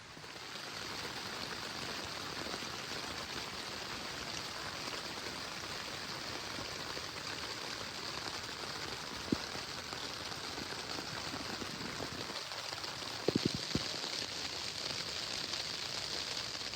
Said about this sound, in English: Raining pretty good, so I'm gonna sit it out for a little bit while and see if it lays off before going.